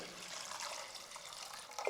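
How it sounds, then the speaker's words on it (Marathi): Water runs steadily into a pressure cooker holding soaked, rinsed chickpeas and salt, a close, continuous splashing pour lasting about two seconds, with a slight change in tone near the end as the level rises. "आता हे कुकरमध्ये घालू चवीप्रमाणे मीठ घालायचं यामध्ये घालायचे पाणी"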